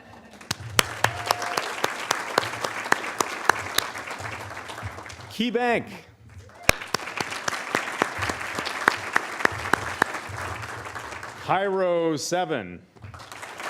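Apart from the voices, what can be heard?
audience applause for sponsors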